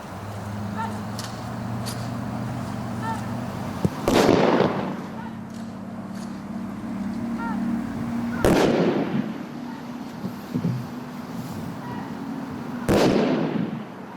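A military firing party discharges rifle volleys at a ceremonial salute: three sharp, loud cracks spaced about four seconds apart, each ringing out briefly, over a low background hum with some outdoor ambience.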